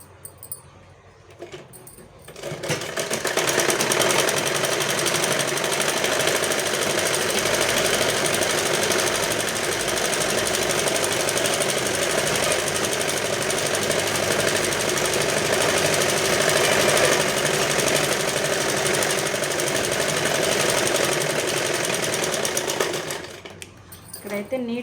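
An electric sewing machine stitching a lehenga runs in one long continuous whir, loud and close, with a steady mechanical chatter for about twenty seconds before stopping, and no one talks.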